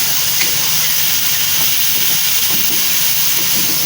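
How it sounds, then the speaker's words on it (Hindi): Whole spices sizzle and hiss steadily in hot oil as they are roasted in a pan for a homemade bread pizza topping, a continuous bright frying noise throughout, close and loud, with no talking. "इसको अच्छी तरह भून लेंगे।"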